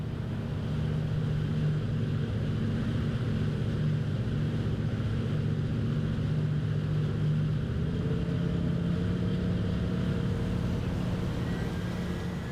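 A Ranieri Next 275 LX motor boat on outboard engines produces a steady low rumble as it gathers speed across open water, with a constant drone throughout and no voices.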